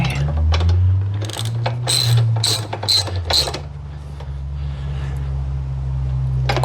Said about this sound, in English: So we need a wrench.